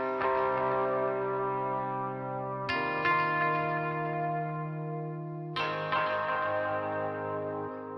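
Clean electric guitar run through an auto chord delay, three sustained chords struck a few seconds apart, each ringing out with echoing repeats, alone in a rock song arrangement.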